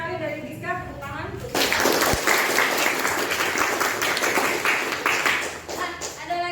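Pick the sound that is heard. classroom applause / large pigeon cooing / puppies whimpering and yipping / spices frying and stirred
classroom applause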